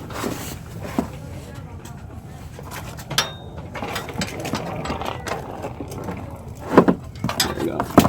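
A ratchet wrench tightens the 17mm oil drain plug on an Acura MDX during an oil change, with close, uneven clicking bursts and metallic ticks that grow louder toward the end, over a low garage background.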